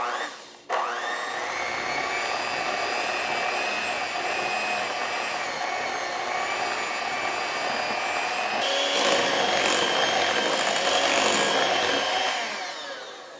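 An electric hand mixer whirs steadily as it blends no-bake pumpkin pie filling with powdered sugar, a loud continuous motor drone that kicks in at once, grows slightly harsher toward the end, then winds down.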